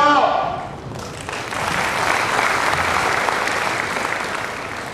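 Audience applause at a live motivational sales seminar, a steady wash of clapping from a crowd that swells after a brief opening and holds fairly loud and even throughout.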